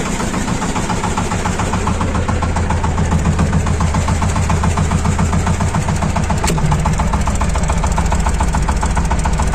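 A Shifeng 240 mini tractor engine idles steadily at low revolutions, a loud, close, rhythmic diesel chug with a slight rough vibration, unbroken throughout.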